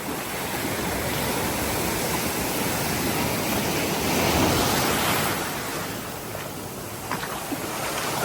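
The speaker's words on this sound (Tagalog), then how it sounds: "May alon kasi." Sea waves at Nagsasa Cove in Zambales, a continuous broad rush of surf that swells slightly midway and then eases, close and loud, with no talk over it.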